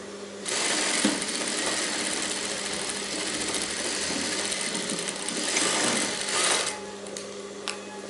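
A sewing machine runs one long continuous stitching pass on a blouse sleeve, a close, steady mechanical whirr that winds down near the end, with no voices.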